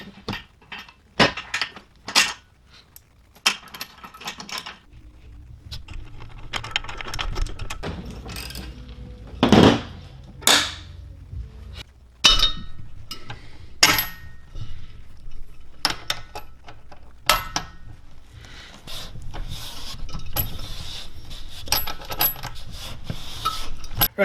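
Metal bolts, washers and nuts being tightened with a socket wrench while mounting feet on a Riley Hopkins 4-color, 1-station screen printing press, heard as irregular clinks, taps and ratchet-like clicks, close and fairly loud.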